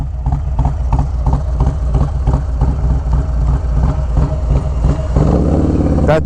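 A Harley-Davidson performance bagger with a 475 cam sits close, its engine thumping in a loud, rhythmic, choppy lope, then revs up sharply near the end.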